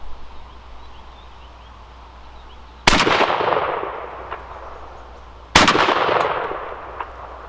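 A Savage Renegauge competition shotgun fires double aught buckshot at a target about 24 yards away: two loud, sharp blasts a few seconds apart, each followed by a ringing decay over a steady background hiss.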